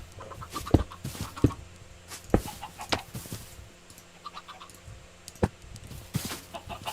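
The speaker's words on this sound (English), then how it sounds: "Did his like chickens get loose or something?" Minecraft chickens cluck in short scattered bursts, several quick clucks repeating irregularly over a faint game background, with no talking.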